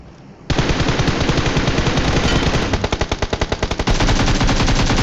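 Automatic weapon fire in the battle royale game BGMI, sustained loud rapid bursts that run continuously after a sudden start, with a stretch of distinct separate shots in the middle before the stream resumes.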